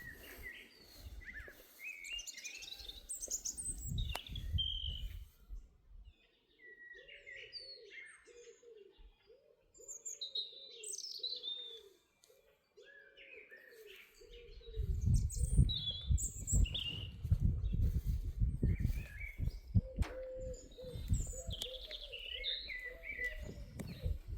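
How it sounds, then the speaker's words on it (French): Birds chirp and tweet in scattered bursts in an overgrown garden while a dove coos repeatedly in a low rhythm, set against a rumbling outdoor background. "Vous entendez les oiseaux?"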